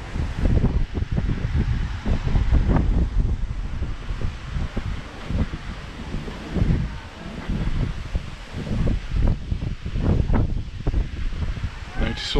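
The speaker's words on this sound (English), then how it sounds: "Just this area seems to be a little bit windy." Wind blows steadily along a seafront promenade, rumbling over the microphone in uneven gusts with faint rustling and soft background sounds throughout.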